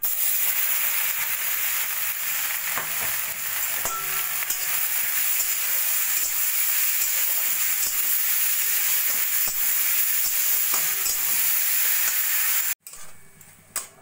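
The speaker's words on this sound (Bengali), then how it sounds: "গাজর আমি 5-7 মিনিট মতো লো ফ্লেমে ভাজা ভাজা করে নিয়ে" Grated carrots frying in a pan over a low flame with crushed cardamom, a steady close sizzle with occasional stirring scrapes, continuous for most of the clip before stopping abruptly near the end.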